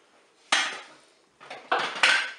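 A spoon clatters against a Cookeo pot while thickened bourguignonne sauce with filet mignon is mixed, one sharp knock followed by a short pause and then a quick run of scraping clanks, close and fairly loud.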